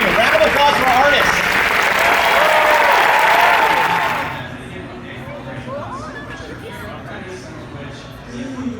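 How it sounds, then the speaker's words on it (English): Loud applause from a convention audience at the D23 Disney fan event, honoring the artists at a Ryman Arts booth. The clapping holds dense and steady for about four seconds, then fades into crowd chatter and murmuring. "Round of applause for our artists."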